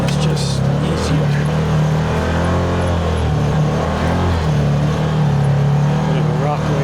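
An off-road vehicle's engine drones steadily in low gear at slow crawling speed over rocky ground, a constant low hum close by with a voice talking over it.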